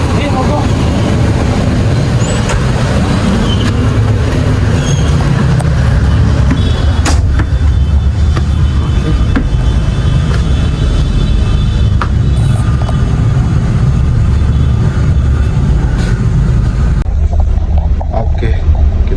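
Cabin noise inside a moving double-decker bus in Indonesia, a constant loud low rumble with rattles and occasional knocks, while people chat over it.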